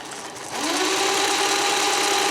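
A mechanical embroidery sewing machine fitted with a custom bolt-on motor runs at about 400 stitches per minute. It starts up and then holds a steady, close whirring drone with a faint tonal hum and no talking.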